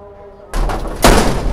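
A door is shut indoors, with a heavy thud near the middle and a louder, sharper slam about half a second later, both close and loud over a low background hum.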